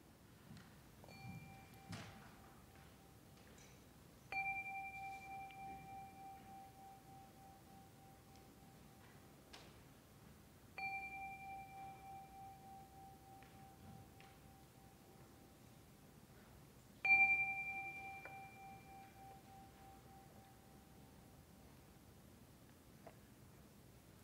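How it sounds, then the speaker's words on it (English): A chime is rung three times at a Unitarian Universalist Sunday service. Each strike gives a clear, soft metallic tone that rings out and slowly fades over a quiet room. "let us settle our minds and calm our hearts with the ringing of the chime"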